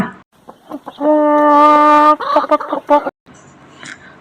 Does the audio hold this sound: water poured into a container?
no